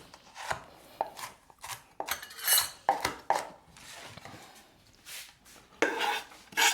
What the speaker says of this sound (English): we're gonna cut up some Scotch bonnet pepper just to add a little spiciness